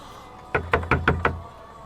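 Five sharp knocks on a door, evenly spaced and close by, in a quiet room with no talking.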